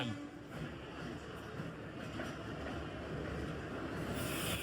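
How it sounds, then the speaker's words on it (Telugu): Puri Express train pulling into a station, a steady broadband rumble and rattle of rolling cars that swells slightly toward the end, with faint voices in the background. "సో ట్రైన్ అయితే వస్తుంది."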